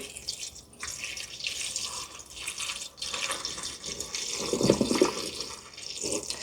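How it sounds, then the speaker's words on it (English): Distilled water poured over rose petals in a container, a steady trickling and splashing that runs the whole time at moderate loudness, swelling slightly near the end, with no talk. "You only want water into this area right here, and it has to be distilled water."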